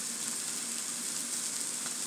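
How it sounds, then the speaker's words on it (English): A steak sears in a hot pan with roasted garlic butter, a loud, continuous close sizzle and crackle with no talking. "I want it to sear really, really good."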